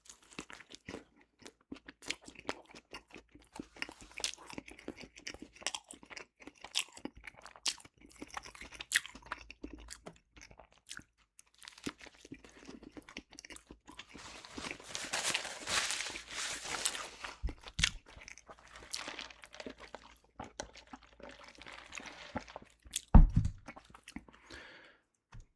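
Crunchy chewing of an Arby's turkey sandwich, close to the mic, with intermittent bites and mouth sounds coming in irregular bursts, a denser stretch of crunching in the middle and a sharp loud bite near the end.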